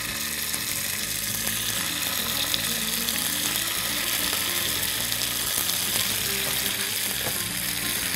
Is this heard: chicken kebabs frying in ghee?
yes